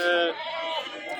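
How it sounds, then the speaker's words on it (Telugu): Sheep bleat at the Talupula weekly Friday sheep and goat market, with one close, wavering bleat loud at the start, fading into quieter bleating and crowd murmur. "ఇవి చాలా బాగున్నాయి అనమాట గొర్రెలు."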